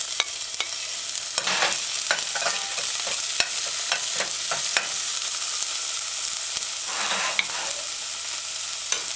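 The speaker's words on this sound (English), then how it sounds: "add your diced scallion. Stir it in. Allow to saute." Diced scallion sautés in a pan for an asparagus tomato stew, a steady broadband sizzle running throughout with sharp clicks and scrapes of a utensil stirring at irregular intervals, close and alone with no voices.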